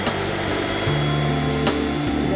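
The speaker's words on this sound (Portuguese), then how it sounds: "Vai estrear a nossa batedeira." An electric stand mixer whips eggs with sugar for brownie batter, a loud, close, steady motor whir whose pitch shifts slightly as the beaters work.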